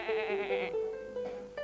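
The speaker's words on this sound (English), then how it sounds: "Sheep want feed." A sheep gives one long, wavering bleat followed by shorter, quieter bleats, close and clear with no talking over it.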